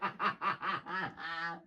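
A duck quacks in a quick series of five nasal honks, followed by a longer drawn-out quack, loud and close with nothing else around.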